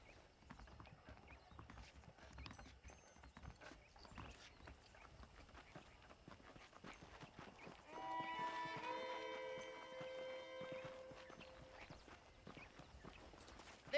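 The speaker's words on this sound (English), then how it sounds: "The horses are saddled up over here." Horse hooves clip-clop steadily in the Red Dead Redemption video game, a faint walking rhythm of hoofbeats beneath a quiet ambient backdrop, with a brief tonal swell midway.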